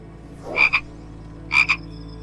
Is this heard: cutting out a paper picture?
no